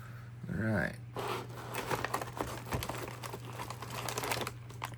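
Plastic packaging of a 2022 MCW Menu 2 spicy oriental chicken with rice ration crinkles and crackles as it is cut open, close and continuous, with a voice speaking briefly near the start.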